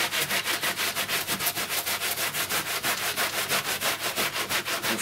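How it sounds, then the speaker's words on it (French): A cloth rubs briskly over a car's interior surface to lift bad odours, making a steady rhythmic scrubbing of quick back-and-forth strokes, close and loud with no voices. "On frotte et ça va parfaitement bien."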